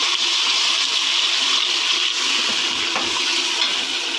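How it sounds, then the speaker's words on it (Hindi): Water poured steadily into a cooking pot while preparing a potato, fenugreek, carrot and pea dish, a continuous close splashing rush that fills the whole stretch without any talk. "ये देखें, अब हम इसमें थोड़ा सा पानी ऐड करेंगे।"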